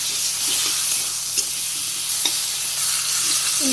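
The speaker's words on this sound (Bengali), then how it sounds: "হালকা একটু লবণ একটু হলুদ দিয়ে ভাজি করি" Fish frying in a pan with a little salt and turmeric gives a steady, close, broadband sizzle throughout, broken by a few faint clicks and one brief scrape near the end.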